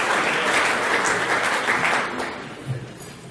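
Audience applause at a SAPSA 2018 event, steady dense clapping from a crowd that stays full for a few seconds, then thins and fades toward the end.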